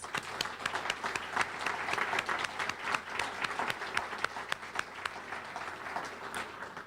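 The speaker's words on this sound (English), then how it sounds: "let's give them a round of applause." Steady audience applause for honorees at a service awards ceremony, a dense, even wash of many hands clapping that continues throughout at moderate level.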